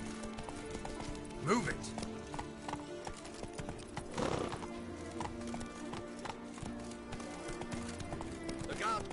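Horse hooves gallop in a steady clip-clop rhythm through The Witcher video game, running under game characters' talking and shouting, with an occasional whinny-like accent.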